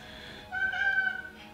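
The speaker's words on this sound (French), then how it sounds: "Arrête de miauler." A house cat meows once, a short, faint, close cry that rises and holds briefly indoors against quiet background noise.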